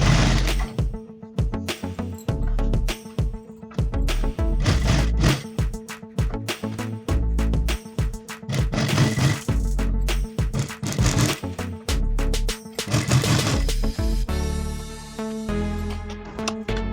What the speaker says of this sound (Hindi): उसके बाद में इलास्टिक पर मैं सिलाई चलाने वाली हूँ।